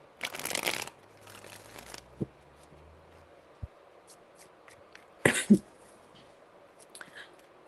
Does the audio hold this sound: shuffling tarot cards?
yes